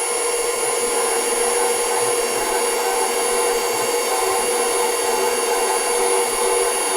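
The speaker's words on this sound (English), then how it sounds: "That noise is the KitchenAid." A KitchenAid Pro 600 stand mixer kneads bread dough with a steady, loud motor whine and grinding hum that holds unbroken throughout.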